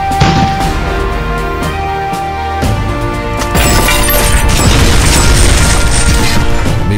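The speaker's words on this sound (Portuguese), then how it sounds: "Com o poder do nosso veículo militar, preparar, atirar!" A military vehicle fires in a video game with loud booming blasts and crashing, shattering impacts. A dense, continuous wall of noise swells even louder partway through, and no one speaks.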